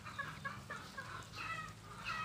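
Several chickens clucking close by, short repeated calls overlapping in an uneven rhythm over a low steady background hum.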